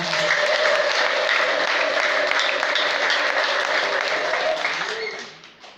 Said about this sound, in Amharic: አጨብጭቡ ለጌታ።